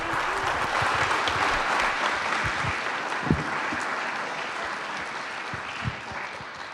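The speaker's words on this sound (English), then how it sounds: "Big round of applause." Audience applause fills the room at a 1 Million Cups startup pitch event in Kansas City, a steady dense wash of clapping throughout with a few sharper low thumps standing out.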